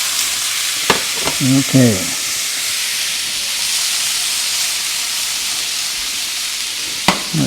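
Shrimp and vegetables pan-searing in a hot skillet, giving a steady broadband sizzle and hiss throughout with a few brief stirring clatters and a short spoken word near the start.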